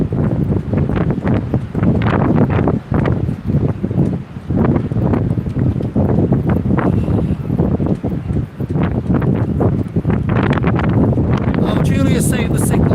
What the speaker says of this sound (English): I can't help the footage with this wind.